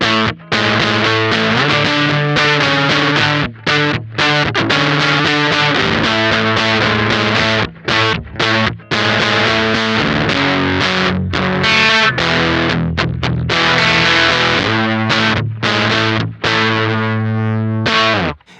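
An electric guitar runs through an LBF Fuzz Cauldron fuzz pedal with its gain at minimum. It plays loud, continuous, thick fuzzy chords and notes with quick rhythmic breaks, less saturated but still far from clean.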